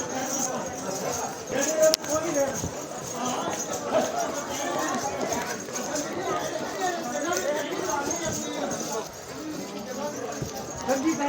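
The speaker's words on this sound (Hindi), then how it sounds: "तो इसलिए हमें अर्धकुंवारी तक घोड़ा लेना पड़ता है" Horse hooves clip-clop along the Vaishno Devi pilgrimage trail from Katra toward Ardhkuwari, a steady rhythmic plodding at close range under continuous speech and background crowd chatter.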